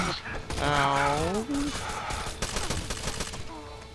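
Gunfire in Rainbow Six Vegas 2 crackles in loud bursts through a firefight, with a voice and electronic tones over the start and scattered shots continuing beneath.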